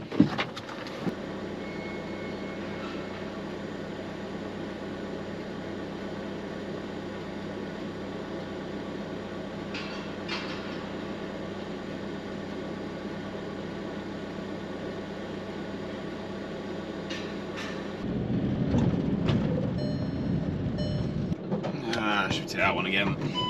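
Drain jetting tanker truck driving, a steady droning cabin engine hum with road noise that rises louder toward the end, with occasional rattles and clicks.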